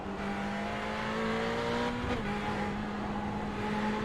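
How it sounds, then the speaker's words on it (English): Ferrari GT race car engine in an iRacing sprint at Summit Point, a steady loud drone with slightly shifting harmonics and a brief pitch dip midway, continuous throughout with no talk. "I think that's just the typical weird Ferrari noises that the Ferrari decides to make."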